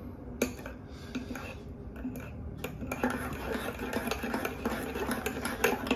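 A spoon stirs coffee in a cup, clinking and scraping against the sides in quick irregular taps that grow busier toward the end, close and fairly clear with no talking.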